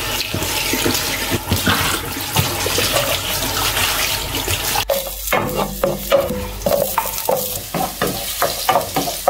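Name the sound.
sautéing string beans with water spinach and sardines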